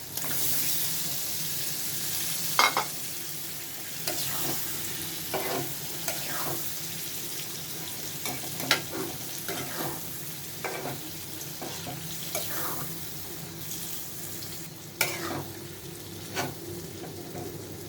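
Spiced masala of garlic, onion, chilli, turmeric, coriander and cumin cooks in a pan as beef liver goes in. A low sizzle carries intermittent clinks and scraping stirs, steady and fairly quiet, with no speech.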